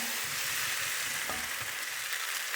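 Potatoes slid into hot oil in a pan for a potato pizza, sizzling and frying steadily with a brief scrape partway through, close and continuous with no talk.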